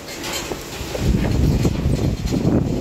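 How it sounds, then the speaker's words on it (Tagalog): Strong wind buffets an outdoor microphone in a steady low rumble that swells louder after the first second, with no talk. "Sobrang lakas ng hangin."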